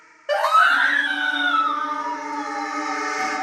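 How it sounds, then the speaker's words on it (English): A woman's long, piercing horror-style scream rises sharply and holds for about three seconds, loud and alone with no other sounds. "She screamed and ran,"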